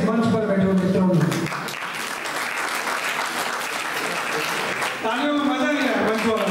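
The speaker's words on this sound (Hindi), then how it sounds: "तालियों में मजा लिया मंच पर" Sustained applause from an audience at an outdoor political rally, loud and dense for several seconds between stretches of a man's amplified speech at the start and end.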